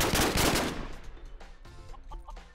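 A grenade launcher fires in a video game: a heavy, dense blast fills the first second, then decays into scattered smaller bangs and clicks over a low rumble.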